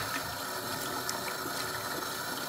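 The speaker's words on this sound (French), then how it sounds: "je vais commencer par rincer le riz plusieurs fois à l'eau, jusqu'à l'obtention d'une eau claire" Basmati rice is rinsed under running water, a steady close rushing splash that stays constant throughout and cuts off at the end, with no voices.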